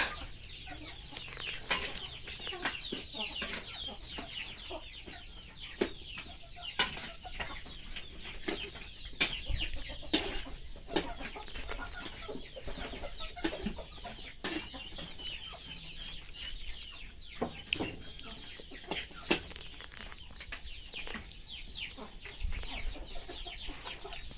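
A flock of chickens is fed rice porridge and clucks continuously nearby, with overlapping calls and occasional sharper squawks and brief wing flaps.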